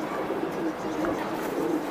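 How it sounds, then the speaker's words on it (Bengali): A domestic pigeon being shown at a sale coos repeatedly in low, throaty rolls, close by, over steady background murmur from a crowded setting. "আর একটি কবুতর আমি একটু দেখাই দেই"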